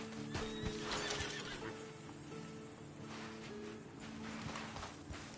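A horse in Red Dead Redemption 2 whinnies and neighs, with clip-clopping hooves and scattered impacts in a faint game soundscape, no talk.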